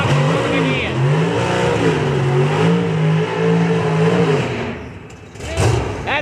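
Voss race car engine revving at Darana Motorsports Park during Wednesday testing, a loud steady mid-pitched drone that rises and falls in pitch for several seconds, then cuts out briefly before another burst.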